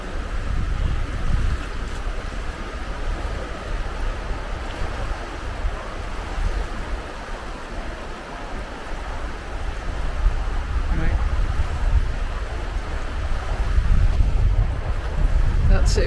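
The River Spey flowing past a fisherman's hut, a steady broad rush of water with wind buffeting the microphone, continuous and fairly close, with no voices over it.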